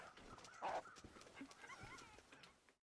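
A dog in The Long Dark charging at the player, a few rough barks and yelps over game ambience, fairly close and mid-loud, with no talk over it.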